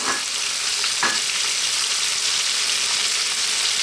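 White onion and cooked chickpeas frying in a pan with salt, a loud, continuous close sizzle with occasional stirring scrapes.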